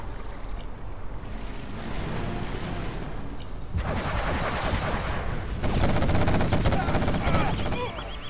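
In the strategy game C&C Generals, a quad cannon fires sustained rapid bursts of gunfire that swell louder in waves over a continuous background of battle noise.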